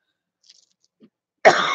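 A person coughs once, a short harsh burst after near-silence with only a couple of faint clicks before it, close to the microphone.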